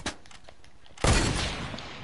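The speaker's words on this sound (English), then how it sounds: "Bo, who's shooting at us?" Video game gunfire, with faint rapid shots at first, then a loud burst of sustained firing that carries to the end of the short moment.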